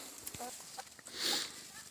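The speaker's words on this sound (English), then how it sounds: "I like this chicken." A hen clucking in a backyard coop, a few short close calls and a brief squawk over faint background noise, with a person's voice nearby.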